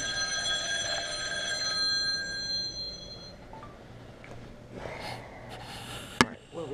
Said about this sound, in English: Somebody didn't put their phone on silent.